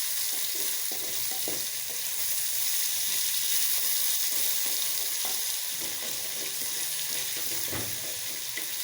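Potatoes fry in a pan with a loud, continuous hissing sizzle that barely changes, broken by a few faint stirring knocks.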